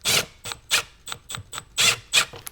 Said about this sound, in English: you just need the T30 Torx bit to screw these bolts in